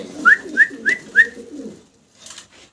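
A male dun-coloured fancy pigeon coos close by, four short rising calls in quick succession over a low rumbling murmur, then faint sounds.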